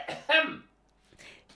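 Two quick, close coughs from one person on an online call, a sharp burst followed by a fainter one after a short pause.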